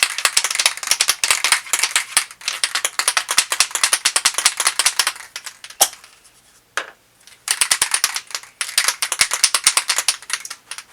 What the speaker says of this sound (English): So you just shake this up.